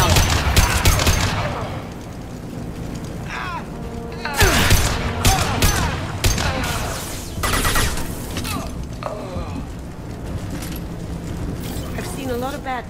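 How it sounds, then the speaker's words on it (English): Gunfire in Mass Effect Legendary Edition, with Blue Suns mercenaries and Vorcha firing in repeated bursts and volleys amid explosions and mechanical clatter, loud and continuous beneath a speaking voice. "The Blue Suns and Vorcha are shooting anything that moves."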